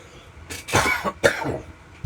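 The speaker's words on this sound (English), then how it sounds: "Oh, I got a cough." A couple of close, loud coughs in quick succession, raspy and throaty, followed by a short pause and another sharp burst.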